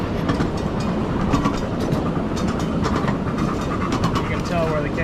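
A live steam miniature train rides along the main line track, rolling with continuous near clickety-clack of wheels on rail joints and a steady rumbling bed of noise, with faint voices mixed in.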